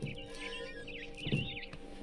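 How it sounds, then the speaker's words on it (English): Barn swallow chirping from the video game What Remains of Edith Finch: quick twittering calls that come and go over a soft ambient background, fairly faint and a little distant. "Then I heard chirping outside my window. It was a barn swallow going back to her nest."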